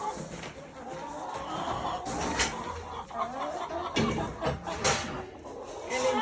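Backyard chickens cluck and murmur around a farm coop at close range, with soft overlapping calls and occasional louder squawks over steady outdoor background noise.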